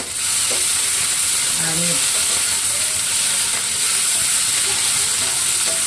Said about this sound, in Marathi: दोन 3 मिनिटं आपल्याला मस्त फ्राय करून घ्यायचे आहे.